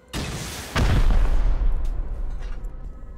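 HV rocket fired at a barricade in a video game, a sharp launch crack followed by a loud booming blast that rumbles and decays over a few seconds.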